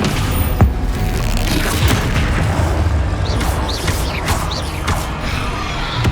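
Spell effects crash through a fight in Hogwarts Legacy, a dense run of booms, thuds and whooshing impacts with creaking debris, loud and continuous with no clear gaps.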